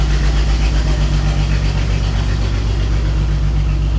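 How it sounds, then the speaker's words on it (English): A BMW 335i engine runs rough just after startup with a misfire, a loud, close, low rumbling idle with an uneven pulsing throb and no talk. "When you first fire it up, it has a misfire."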